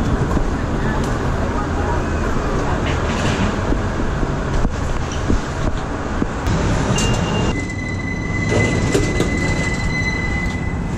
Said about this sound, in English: Now we're getting on the train to Manhattan.